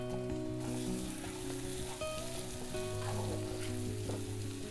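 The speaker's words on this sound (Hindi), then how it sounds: "अब ऐड कर दूंगी एग, बटर, धनिया, गरम मसाला" Egg bhurji with butter, coriander and garam masala sizzles steadily over very high heat, with a constant close frying hiss and a low hum of background noise throughout.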